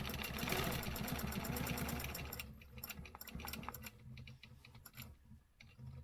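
A sewing machine stitches fabric along a ruler in quick, rapid-fire needle bursts. The run is loud at first, then breaks into shorter, quieter stop-start stitching close by.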